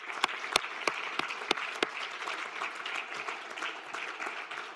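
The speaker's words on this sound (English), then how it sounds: "Can we give them a round of applause" A few sharp, close hand claps ring out at the start of applause from an audience at a city's State of the City address, followed by a softer, steady wash of many hands clapping at a distance.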